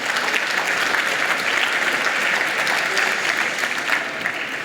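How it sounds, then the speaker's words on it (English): Steady applause from an audience at an awards ceremony, a dense continuous clatter of many hands held at an even level throughout, with faint crowd murmur underneath. "I think that's another round of applause,"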